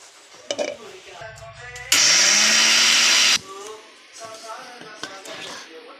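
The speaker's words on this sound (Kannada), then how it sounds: "ತೆಂಗಿನಕಾಯಿ ತುರಿನ ಈ ಮಿಕ್ಸಿ ಜಾರ್ಗೆ ಹಾಕ್ಕೊಂಡು ಸ್ವಲ್ಪ ಗ್ರೈಂಡ್ ಮಾಡ್ಕೋಬೇಕು" A mixer grinder grinding grated coconut with cardamom roars loudly for about a second and a half, cutting sharply on and off between stretches of talk.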